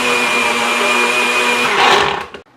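A kitchen blender pulses oats for a Jamaican dumpling mix, a loud, close whirring motor run that rises in pitch and then cuts out abruptly, leaving near silence.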